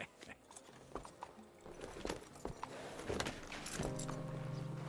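Horse hooves clip-clopping at a walking pace in Red Dead Redemption 2, an uneven series of light thuds over ambient game sound, with a steady tone entering near the end.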